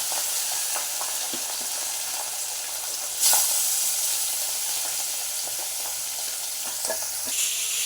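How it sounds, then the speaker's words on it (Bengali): Pointed gourd fries in a pan with a steady, close sizzle and hiss, punctuated by a few soft stirring knocks. "এদিকে হচ্ছে পটলটা একটু হালকা ভেজে নিচ্ছি"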